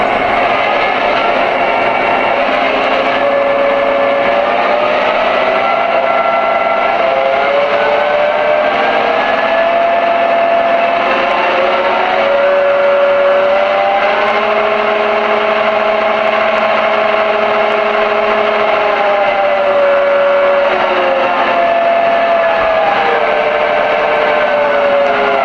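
A Lionel Pennsylvania GP-7 model locomotive with Legacy sound plays a steady diesel engine rumble at RPM level, droning continuously and loud with slight pitch shifts and no talk.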